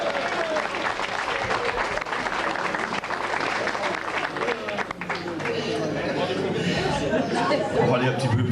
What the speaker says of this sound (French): qu'on l'applaudisse pour la version allemande.